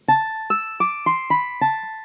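Guitar voice on the ORG 24 keyboard app: six plucked notes played one after another at an even pace, each sharp attack decaying quickly, clean and close with no talk.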